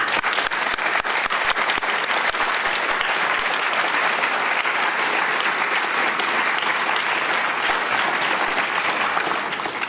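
Sustained, dense applause from students honoring faculty at a Duke Global Health undergraduate commencement ceremony, filling the hall steadily at full volume for the whole stretch with no talk.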